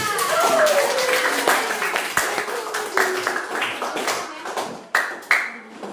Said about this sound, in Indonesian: Mari kita beri aplaus untuk kelompok 2